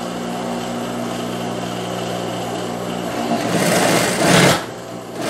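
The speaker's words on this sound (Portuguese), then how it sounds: "Aqui eu vou passar uma costura para fixar aqui essas duas partes." Sewing machine stitching a seam to join two pieces of knit fabric for wide-leg jumpsuit, a steady continuous mechanical whir close by that grows louder and faster near the end, with no talking.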